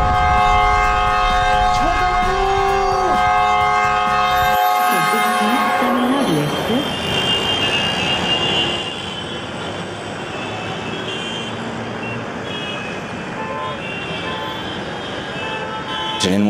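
A train horn sounds loudly for a few seconds, then a commuter train rolls on with a continuous rumble and clatter, with brief talk near the start.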